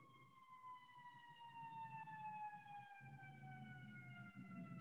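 An ambulance siren wails steadily as it passes by outside, its falling tones distant and faint beneath a low background rumble of traffic.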